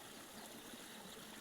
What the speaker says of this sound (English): I hope you can hear the creek.